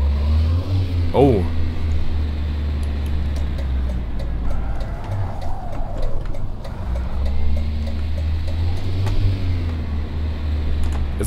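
Rally-style drift car in the City Car Driving game accelerating hard, a loud droning engine with rising revs and a steady low rumble throughout, with someone talking over it.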